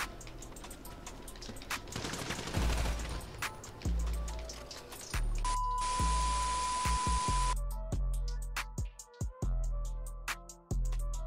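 Rapid gunfire exchange in a Brazilian online multiplayer shooter game, with dense bursts of automatic fire, single sharp shots and impacts throughout, loud and close, with no speech over it.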